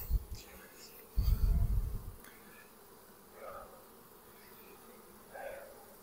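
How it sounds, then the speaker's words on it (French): Honey bees buzz around a hive as a swarm is being made up, a steady humming drone close by with low handling thumps and a few brief vocal sounds over it. "j'ai tiré un pack d'abeilles"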